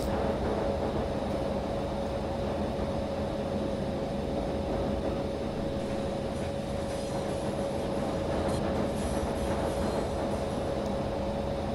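The Karnataka Express rolls along as a continuous, even rumble with a steady whine on top. It is heard from on board, loud and unbroken, and the speed barely changes.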